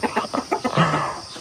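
Chickens clucking close by in a short burst of quick rhythmic clucks that ends in a longer drawn-out call.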